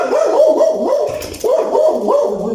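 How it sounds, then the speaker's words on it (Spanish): A dog barks and yowls close by in a rapid run of wavering, howl-like barks, breaks off briefly, then starts again, loud and with no talk over it. "Tenemos aquí una pequeña interrupción de un perro"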